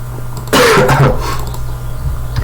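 One harsh, close cough bursts out, then trails off into quiet background hum.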